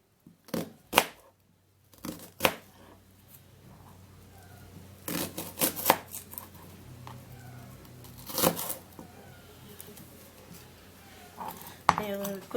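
An ingredient being sliced with a knife on a board, with several sharp separate cuts and clatters spread over a quiet background that has faint rustling between them.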